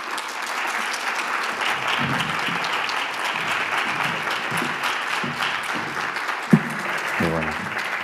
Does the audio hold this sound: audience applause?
yes